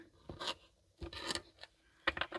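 Tarot cards are shuffled and cut in short bursts: a few quick riffling, scraping rustles separated by pauses, close and quiet.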